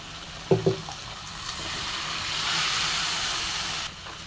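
Dill greens (shepu) dropped into a hot pan, a couple of soft thuds followed by a steady broad sizzling hiss that swells and then eases, close and alone without talk.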